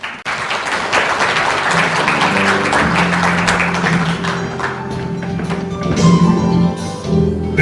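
A crowd applauds at a forum's founding ceremony after a congratulatory address by a lawmaker, a full burst of clapping that tapers and swells again, with faint murmurs beneath.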